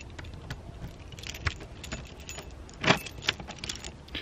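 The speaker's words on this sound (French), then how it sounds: "Allez, je ferme le camion quand même." Keys jangle and clink in scattered bursts while someone locks a van, with one louder rattle partway through. The sound is close and fairly quiet.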